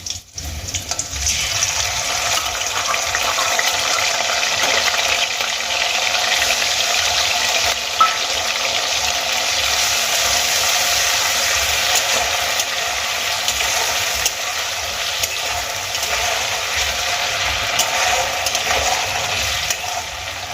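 Ginger garlic paste frying in oil with black cumin and green chilli, a loud, continuous close sizzle and hiss that holds steady without a break.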